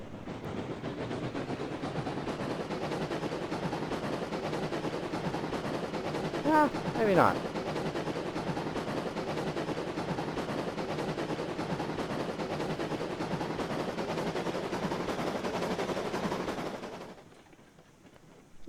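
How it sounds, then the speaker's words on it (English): Rapid high-speed steam locomotive chuffs from the train game Railroads Online blur into a dense, continuous rattling roar, with a brief voice midway before the sound drops away near the end. "and then the high-speed chuffs are the same."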